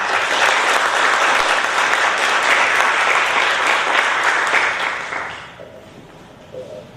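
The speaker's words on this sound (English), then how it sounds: "let's give a round of applause for Sue" An audience in an auditorium at a board of education meeting applauds loudly and steadily for about five seconds, then the clapping fades out to a quiet room.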